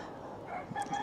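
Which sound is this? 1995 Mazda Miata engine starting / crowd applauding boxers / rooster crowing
rooster crowing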